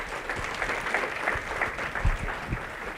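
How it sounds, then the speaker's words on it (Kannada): An audience claps at a public function after a speech ends, producing moderate, fairly thin applause that holds steady throughout with no talking. "ಇಷ್ಟೇ ಚಪ್ಪಾಳೆ ಹೊಡೆದ್ರೆ ತುಂಬ ಕಡಿಮೆ ಆಗುತ್ತೆ."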